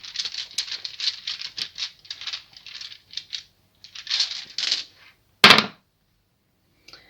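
Divination dice rattle and tumble for a few seconds in a tarot-style reading, a crisp patter of small clicks, then a brief pause before a single sharp knock as they land, close and fairly loud.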